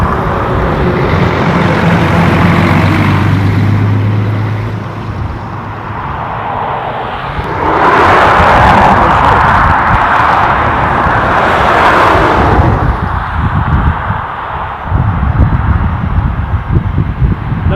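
A fixed-wing airliner departs Dublin International Airport, its loud engine roar filling the scene and swelling to a broad peak midway before easing back, with no voices.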